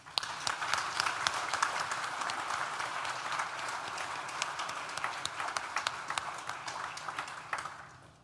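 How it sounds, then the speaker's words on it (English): Audience applause at an NTU graduation ceremony, a dense, sustained round of clapping from a large hall crowd that holds steady for several seconds before tapering off at the end. "Please join me in thanking them with a well-deserved round of applause."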